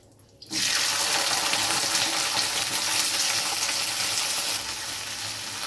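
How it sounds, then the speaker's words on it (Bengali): Chopped flat beans (sheem) dropped into hot oil, a sudden loud rushing sizzle that bursts in after a quiet start and holds steady, easing slightly near the end. "এখানে আমি শিম ছোট ছোট করে কেটে ভালো করে ধুয়ে রেখেছি, এগুলো আমি তেলের মধ্যে দিয়ে দেব"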